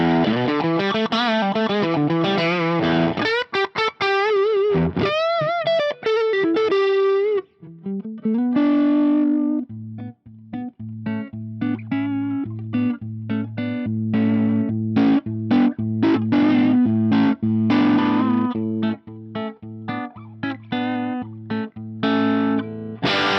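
Electric guitar through a Dumble-style amp with its foot-switchable boost engaged, a pushed, overdriven tone, fast runs giving way to chunky sustained chords and stabs, loud and close with no talking.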